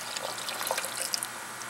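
Dark dye water pouring and dripping out of bed sheet cloth, a steady close trickling and splashing with scattered drips and no talk.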